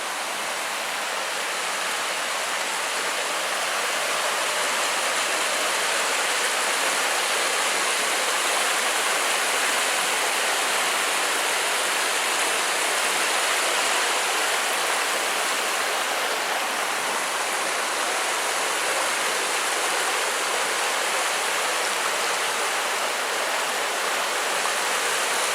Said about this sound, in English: you can't hear anything because of the creek